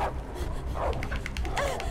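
A dog in the video game Beyond Two Souls pants and softly whimpers in a brief, close run of breathy sounds over low game ambience.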